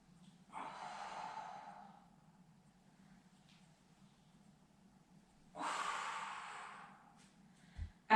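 Two deep, audible exhales during a Pilates breathing exercise, each a breathy rush lasting over a second, about five seconds apart, over a quiet low hum.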